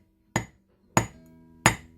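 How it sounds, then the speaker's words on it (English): A jewelry hammer strikes ground wire three times at a slow, even pace, each blow a sharp close metallic tap with a brief ringing decay, with no talking. "if you take this same metal, same hammer rather, and use it on some ground wire"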